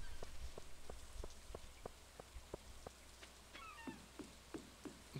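Rain falling in the video game Stardew Valley, a steady patter under regular soft ticks, joined near the end by faint cat meows.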